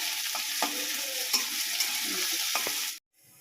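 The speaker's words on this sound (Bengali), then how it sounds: "পেঁয়াজ রসুন আদা এগুলো দিয়ে দিই, এগুলো ভাজা হতে থাকে" Chopped onion, garlic and ginger frying in oil, a bright steady sizzle broken by a few stirring knocks and scrapes of a spatula, then cutting off abruptly near the end.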